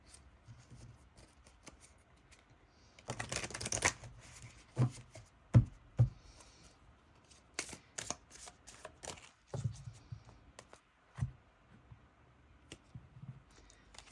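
Oracle cards from the Earthly Souls and Spirit's Moon deck shuffle in a quiet room with a short riffling burst, followed by scattered soft taps and flicks as single cards are drawn and laid down.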